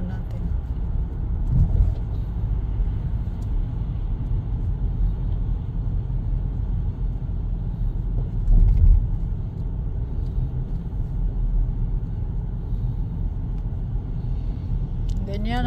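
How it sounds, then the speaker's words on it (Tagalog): Steady night highway traffic on Highway 11 near Huntsville on a Friday, with cars rolling past in a continuous low rumble and a louder vehicle swelling by near the middle, while someone talks over it. "Ganyan ang traffic dito pag gabi."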